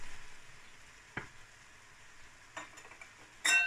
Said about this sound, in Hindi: और इसको बस मैं अच्छी तरह भून लूँगी कीमे को।